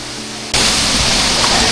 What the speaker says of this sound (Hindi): झरने की बहुत धार है।